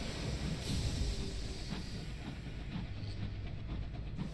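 A steam locomotive rolls along in the video game Sunless Skies, a constant low rumble and hiss with soft periodic clanks, held at a faint, even level throughout.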